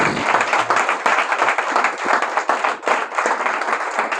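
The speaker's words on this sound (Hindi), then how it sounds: "और सब प्रभु की महिमा की ताली देंगे जोर से एक बार।" A church congregation claps and applauds loudly and continuously, a dense wash of many hands close by, with a brief voice at the start.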